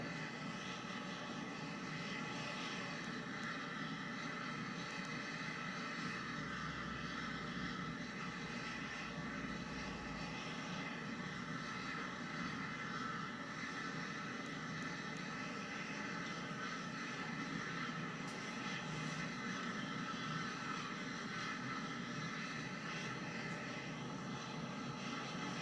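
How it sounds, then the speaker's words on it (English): A C-17 Globemaster military jet departs Edinburgh Airport, its engines a steady, distant, broadband roar held throughout with a faint low rumble partway in. "The C-17 Gledmaster, when it lifts away from Edinburgh,"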